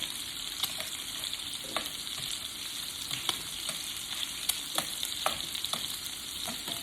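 Seafood-stuffed salmon fillets fry in a hot pan with a steady, close sizzle, dotted with sharp pops and crackles throughout and no voices.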